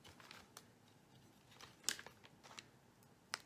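Scissors snip the tip off a plastic pastry bag for royal icing: a few faint, sharp cuts and crinkles spread over a quiet background.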